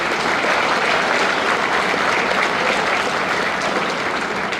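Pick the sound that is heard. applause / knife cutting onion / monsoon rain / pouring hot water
applause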